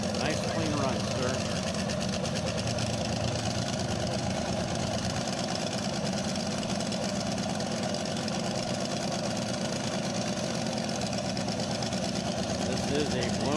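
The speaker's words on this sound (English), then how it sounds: "This is a blown fuel Lakester with an A engine." At an El Mirage dry lake race, a blown fuel Lakester race car with an A engine holds a constant, dense roar from start to finish, heard from a distance, with no break or change in pitch.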